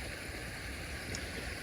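A garden pond waterfall pours in a steady, broad rush of water. The sound is close and continuous, with no voices.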